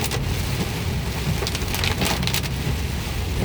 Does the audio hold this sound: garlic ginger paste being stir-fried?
no